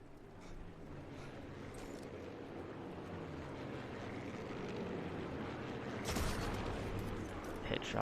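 A sniper rifle fires in Sniper Elite 4, a sharp gunshot cracking out near the end over a steady ambient game wash, followed by a second fainter shot shortly after.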